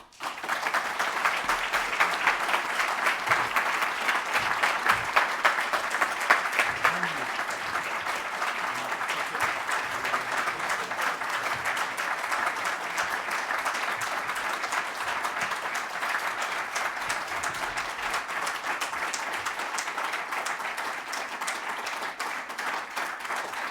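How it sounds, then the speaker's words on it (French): A thoracic medicine conference audience applauds at length after a talk, with sustained, even clapping from many hands that stays full and steady throughout. "Ces applaudissements sont largement mérités."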